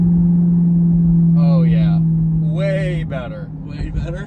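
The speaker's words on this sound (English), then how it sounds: "Nice little pop there between gear shifts." A C8 Corvette fitted with an AWE Track Edition exhaust drones loudly in a steady low rumble, then eases off as people talk over it, with small pops suggested between gear shifts.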